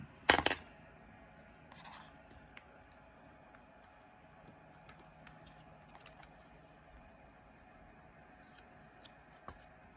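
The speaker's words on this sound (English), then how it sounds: "before I complete the stitch where that tail's coming out, I just snip it" Scissors give a single sharp, close snip through the tail of embroidery floss right at the start, then only faint ticks and rustles follow in a quiet room.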